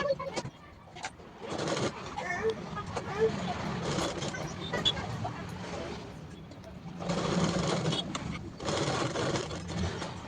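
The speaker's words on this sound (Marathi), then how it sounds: "डबल टिप करून टक्सवरती चारही बाजूचे टक्स मारून घेते" Sewing machine stitching tucks on a blouse, running in steady bursts with brief pauses, mid-distance, over a busy room background with birds cooing and faint traffic.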